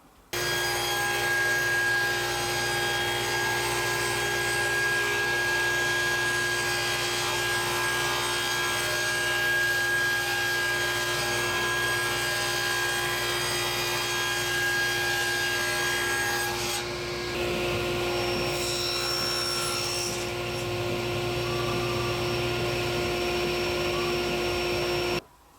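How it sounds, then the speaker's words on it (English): A saw rips wood into half-inch-wide strips, a sustained loud whirring hum with continuous cutting rasp that shifts in tone partway through and runs nearly the whole time. "I want to rip 4 pieces that are going to be 1/2 inch wide"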